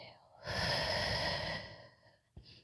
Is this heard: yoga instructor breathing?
yes